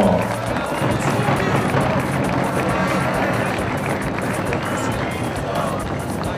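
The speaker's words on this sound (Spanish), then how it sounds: "Aplauso" A crowd applauds steadily as a member of the Imbabura SC football team is presented, a continuous dense wash of clapping with voices mixed in.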